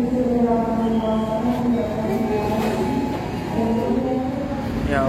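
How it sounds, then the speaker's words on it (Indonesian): Matarmaja passenger train running near Tegal station, heard from inside as a loud, steady rolling rumble with a droning hum and faint rail clatter, no talk. "kereta api Matarmaja yang saya naiki saat ini telah tiba di stasiun Tegal"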